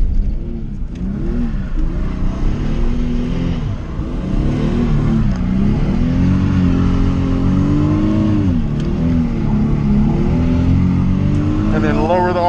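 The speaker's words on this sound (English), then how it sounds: "we'll just start doing donuts around that cone, either direction" A car revs and whirs in first gear while circling a tall cone doing donuts, its engine note rising and falling in looping sweeps, close and loud throughout.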